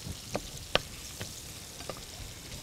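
Garlic and onion fry in a pan while being stirred for a lobster dish, a faint soft sizzle with a few sharp clicks and scrapes from the stirring.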